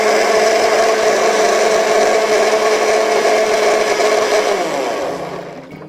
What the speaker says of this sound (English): take a pinch of your denim scraps and put them into your blender